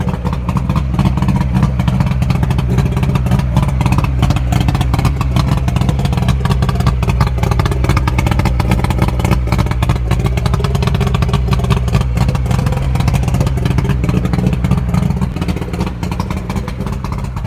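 A 1998 Mariner 90 hp three-cylinder outboard motor runs steadily and loudly up close, a continuous droning, clattering engine note that holds even throughout.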